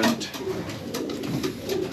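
Racing pigeons coo in a breeding loft for hens, soft repeated cooing calls layered with rustling and light wing flutters, close by and without speech.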